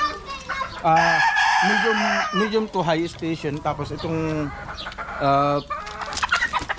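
Gamecocks, including a high-station broodcock, crowing and clucking near and loud in bursts, with someone talking over and between the calls.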